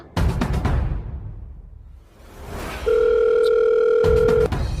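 A steady electronic phone-disconnected tone rings loudly and alone for about a second and a half after a short stretch of background noise, then cuts off abruptly as the call ends.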